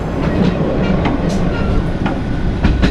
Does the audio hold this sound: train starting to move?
yes